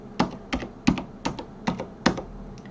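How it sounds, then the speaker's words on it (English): Keystrokes on a computer keyboard while a password is entered during a WSL installation, six or so distinct clacks in an uneven rhythm, close and fairly loud, with no talking. "And I'm going to type in my password here."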